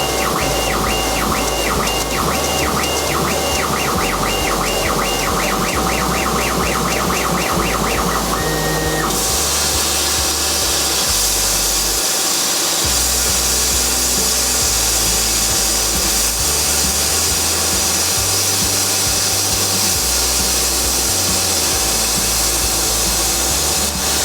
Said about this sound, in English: The hissing you can hear is air assist.